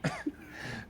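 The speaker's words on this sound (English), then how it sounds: "I apologize for coughing into the mic there." A man coughs hard into a microphone after choking on water, two quick harsh bursts then a rasping throat-clearing tail, close and alone.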